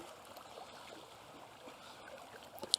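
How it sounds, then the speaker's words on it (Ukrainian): Small waves wash steadily against a lakeshore or riverbank during a perch fishing trip, a continuous soft, close lapping with a faint splash near the end and no voices. "такі хвилі, так воно об берег розвивається все"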